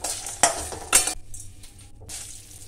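Lemon rice with turmeric and salt being stirred in a pan produces two sharp scraping strokes of a spoon against the metal, followed by quieter shuffling and a faint sizzle.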